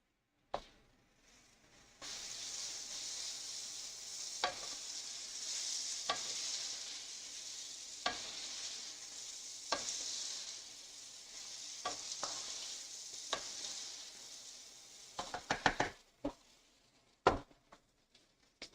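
Food frying in a pan, a steady broadband sizzle starting after a brief quiet moment, broken by periodic clinks and scrapes as it is stirred, with a cluster of sharper utensil knocks toward the end.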